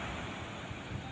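Sea waves roll onto the beach at Veraval Somnath during rough weather. The surf sounds as a faint, steady wash with low rumbling and wind noise, and no clear individual breaks.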